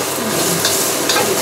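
Vegetables and cashews stir-frying in a hot pan, a steady loud sizzle with a few brief scraping stirs, close and continuous without talk.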